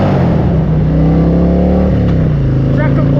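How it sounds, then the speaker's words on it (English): A motorcycle engine revs on the road under an overpass, a loud, sustained exhaust drone rising and falling in pitch, heard close with steady wind rush throughout. "Might do a little exhaust check."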